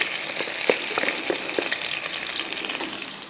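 Green chillies and garlic sizzling in hot oil after mustard seeds have popped, a steady bright crackle with scattered sharp pops throughout, close and loud with no voices.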